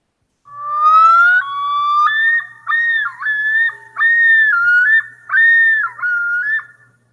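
A loon's yodel call rings out loud and clear as a long wavering whistle, rising in pitch and then breaking into several repeated yodelling phrases with short gaps, heard alone with no talking.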